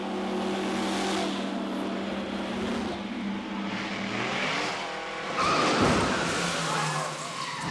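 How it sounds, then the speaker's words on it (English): Mercedes-Benz Silver Arrows race cars entering a pit lane, engines revving and tyres squealing close by, with a louder surge of engine noise near the end and faint talk under the noise. "5 cars are approaching the lane."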